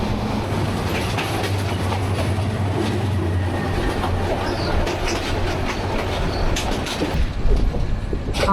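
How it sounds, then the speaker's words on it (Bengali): The Jamalpur Express speeds through the night from Mymensingh to Dhaka, a loud, continuous rumble with rhythmic wheel clatter heard up close from inside the train. "এখন ট্রেনের এত পরিমাণে স্পিড"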